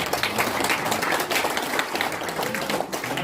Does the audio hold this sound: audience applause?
yes